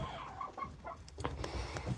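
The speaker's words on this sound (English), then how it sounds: "So, we got our chickens here." Several farm chickens cluck in short, repeated bursts close by, with a steady murmur of the flock behind them and no talking.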